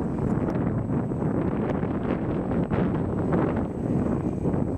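Strong wind gusts at an RC flying field buffet the microphone in a loud, continuous roar with slight surges, with no voices heard.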